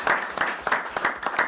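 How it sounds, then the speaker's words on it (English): Attendees at a town council meeting applaud, a sparse, rhythmic clapping from a small group heard close and moderately loud over a brief stretch. "I think we should owe a round of applause for Ron Esworthy and the men"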